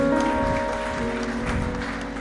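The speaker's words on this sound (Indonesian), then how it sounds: "Sekali lagi dong beri tepuk tangan buat pemain musik dan semua para worship leader" Clapping from a church congregation at a Sunday service, applauding the musicians and worship leaders, a sustained patter of hands under a lingering musical hum, moderately loud and without talking.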